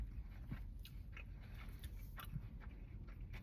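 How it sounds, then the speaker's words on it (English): Crunchy bites and chewing of a Subway breakfast sandwich with bell peppers, several quiet crisp crunches at irregular intervals, close up and fairly faint. "Feels like you're biting onto something crunchy, but healthy."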